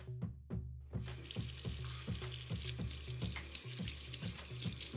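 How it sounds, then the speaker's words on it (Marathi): Water runs steadily from a tap while items are rinsed, with rhythmic clinks and splashes of utensils being washed in a sink. "तिने ते सगळं पाण्याने स्वच्छ धुवून घेतलं"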